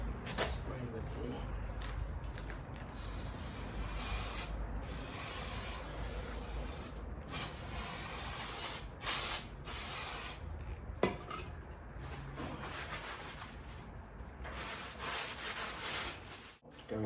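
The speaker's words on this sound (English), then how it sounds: "I will still give it a spray of hammerite, just to freshen it up a bit." Bursts of hissing Hammerite aerosol spray onto a VW Golf Mk2 strut mount area, some short and some held for several seconds, with brief pauses between them. The spraying is close and fairly quiet.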